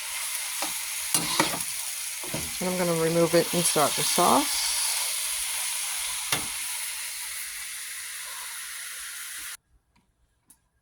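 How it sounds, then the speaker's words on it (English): Chicken and shrimp chop suey vegetables with onions stir frying in a pan, a steady loud sizzle with scraping stirs throughout, a person briefly speaking over it before the sizzle cuts off near the end. "I'm just stir frying them till they're crisp and the onions are a little translucent."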